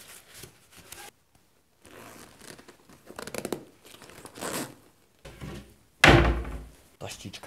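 Toilet paper handled while packing toiletries for a trip, a sharp crinkling, tearing rustle close by that bursts out loudly near the end, after quieter soft handling noises and pauses.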